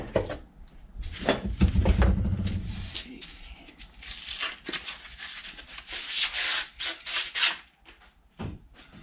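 Plastic wrapping rustles, rubs and crinkles close up as a packaged drift trike rear axle, a fully keyed shaft, is unwrapped, with a few brief squeaks and no talking.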